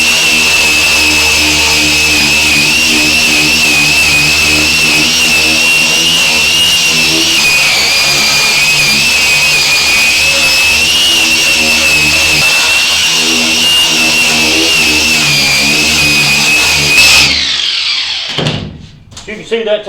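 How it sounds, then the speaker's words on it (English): An angle grinder with a coarse wire brush strips rust scale off a school bus's metal, a loud, sustained high-pitched whine with a gritty scraping edge that winds down abruptly near the end. "we'll just take the grinder with the coarse brush and cut that down"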